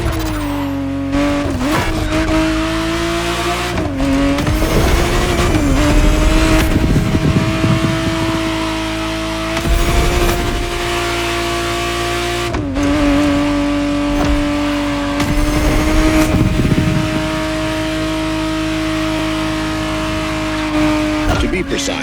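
A 1991 Ferrari 512TR, the re-engineered Testarossa, drives in the racing game The Crew Motorfest. Its engine drones loudly, rising and dropping through gear changes with occasional tire squeal, while a voice narrates over it throughout.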